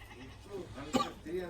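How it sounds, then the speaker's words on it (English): Goats on a farm in Fiji coming home, with a single short bleat rising mid-clip over people talking nearby. "The goats are coming home."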